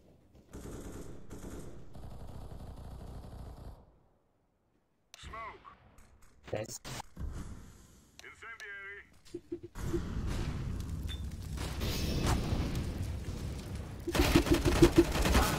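Bursts of gunfire in CS:GO rattle out in clusters, some rapid and automatic, others sparse single shots, getting denser and louder toward the end, with someone talking over parts of it.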